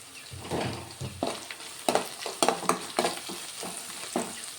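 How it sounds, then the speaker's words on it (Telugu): Fenugreek leaves and green chilies fry with turmeric in a pan. A soft, steady sizzle is broken by irregular stirring scrapes and spatters, quieter at first and busier midway, with no voices. "కొంచెం ఫ్రై అయిపోయినాయి మెంతి కూర, పచ్చిమిర్చి ఇవన్నీ"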